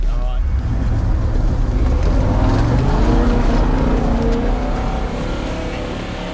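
A car fitted with an aftermarket exhaust accelerates, a loud sustained engine roar building and then easing off, with voices talking over it.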